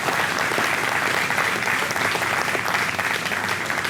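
A crowd at a political fundraiser breaks into steady applause, a dense, even clatter of many hands that stays loud and constant throughout.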